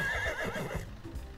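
A horse neighs in a school simulator video game, one close whinny with a shrill, wavering start that drops and fades, with faint hoof clops below and no talking.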